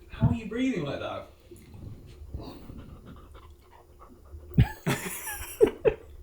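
A dog pants and huffs in short breathy bursts, close by, while people talk and laugh over it, with a few sharper sniffs and thumps near the end.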